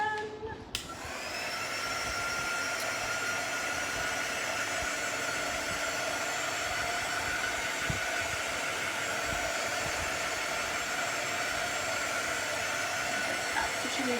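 A hair dryer blows steadily on a craft wood cutout, switching on abruptly and then holding a constant, close whooshing hum for the rest of the stretch.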